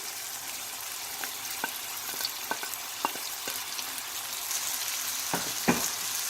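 Okra frying in a hot pan gives a steady, moderate sizzle, broken by scattered light clicks and taps from stirring as the pieces settle into the oil.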